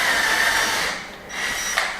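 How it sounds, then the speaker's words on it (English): A power drill whirs steadily at close range, briefly slowing before spinning up again, like a screw being driven into wood. "we're confident the screws are going in"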